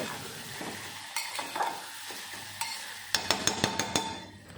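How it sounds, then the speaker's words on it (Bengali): A spoon clatters repeatedly against a pan as an egg curry mixture with onions is stirred over a steady sizzle, the scraping quickening toward the end. "এখন আবারও ভালো করে মিশিয়ে নেব"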